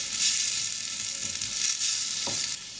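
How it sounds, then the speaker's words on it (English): Chilies and green peppers sizzle loudly in a hot pan for a moment, a steady frying hiss with a brief scrape of stirring near the end. "add in my chilies and my green peppers. Give that a stir around."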